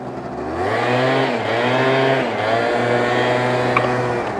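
A Yamaha Zuma scooter engine revs up hard and holds a buzzing, steady high pitch that wavers a little. It is loud and close, with no voices over it.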